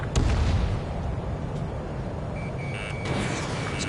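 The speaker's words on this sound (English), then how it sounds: "Strider 1, missile launched" Missile launch from a fighter jet in Ace Combat 7, heard as a loud roaring rush with a heavy low-end thump at the start, followed by sustained engine noise and a few faint warning tones.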